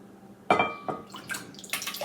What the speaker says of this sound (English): And in goes the buttermilk.